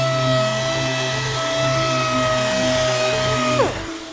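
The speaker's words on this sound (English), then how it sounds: "I'm using this sander. It has an integrated vacuum in it" A power sander with an integrated vacuum whirs with a steady high whine and vacuum hiss while sanding a vehicle roof, then winds down near the end; no talking.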